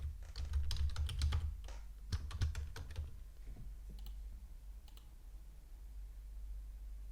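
Bursts of rapid clicking keystrokes on a computer keyboard as a password is typed, loud at first, then sparser, scattered taps over a low steady hum.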